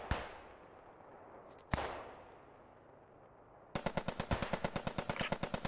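Gunfire rings out in a war video game set around houses and a capture point: two single loud shots with long echoing decay, then a rapid, evenly spaced burst of automatic fire, with no talking.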